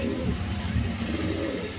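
A male pigeon, an old bird from a home loft, coos in low, rolling throaty notes that carry steadily through the clip, close and fairly loud.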